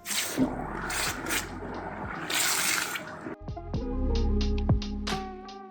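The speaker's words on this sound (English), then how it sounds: "Right, let's give this a quench." Water sloshes and bubbles, then a sharp hiss and sputter as a hot metal jewellery casting is plunged in, settling into gurgling and crackling drips.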